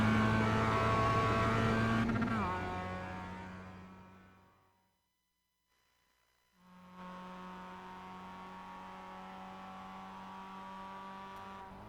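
Mazda MX-5 race car engine in the iRacing video game at Silverstone, loud and held flat out, fading away into near silence before the sustained engine drone returns at steady volume.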